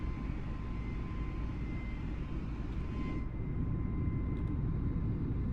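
Steady broadband roar of an Airbus airliner's engines in a flight simulator game during a flaps-full approach to Paro, Bhutan, continuous and loud with a faint whine; a high layer drops away about three seconds in.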